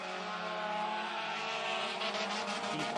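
Four-cylinder dirt ministock race cars roar around a dirt oval during a 42-lap memorial race, a loud continuous blend of engines revving together with no break.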